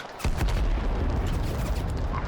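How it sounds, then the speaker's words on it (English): Airstrikes hitting the battlefield in the strategy game Total Conflict: Resistance, a deep booming impact followed by rumbling, crackling explosions, loud and close, with no talk. "Let's just add insult to injury with some airstrikes"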